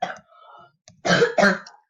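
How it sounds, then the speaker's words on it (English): Two harsh, close coughs in quick succession from a sick boy, preceded by quieter throat sounds and a brief pause. "Sorry about my cousin coughing"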